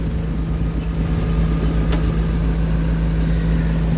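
A Dodge conversion van's engine idles steadily while warming up, a constant close rumble with a faint brief click partway through and no voices.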